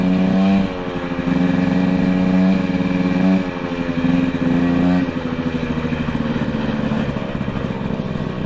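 A small two-stroke moped engine with a stock SPX exhaust pipe idles and revs unevenly nearby, its buzzing pitch rising and falling over several seconds, with no talking.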